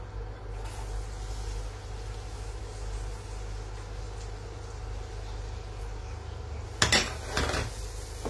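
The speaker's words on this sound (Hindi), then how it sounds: "ये पैन गरम हो गया और ये जीरा इसमें गरम हो रहा है और इसी में मैं डाल दूंगी ये अनियन" Cumin heats in a hot pan over a steady low background hum, then a sudden clatter of metal and a burst of noise come as chopped onion is tipped in near the end.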